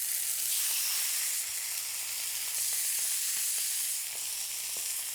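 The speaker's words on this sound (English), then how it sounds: "So in it goes. Good sizzle there." Chicken thighs flash frying skin side down in hot oil give a steady, loud, close sizzle with faint crackles and pops throughout, with no talking.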